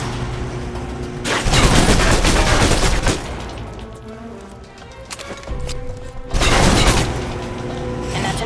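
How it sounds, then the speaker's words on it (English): Submachine gun fire in the video game Alpha Protocol, two loud sustained bursts of rapid shots separated by a quieter stretch of background game sound. "If you're trapped in close quarters with multiple opponents, the SMGs can help clear the room quickly."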